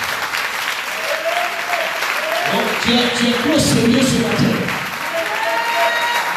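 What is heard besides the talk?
congregation applause in church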